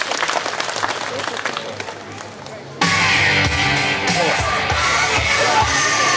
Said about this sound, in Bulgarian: Хайде отново аплодисменти за Балет Кабарет.